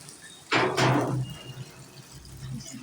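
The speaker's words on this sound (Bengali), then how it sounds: "পানি দিয়ে দিলাম" Water is poured into a cooking pot as a sudden close gush lasting under a second, then it stops and faint kitchen background remains.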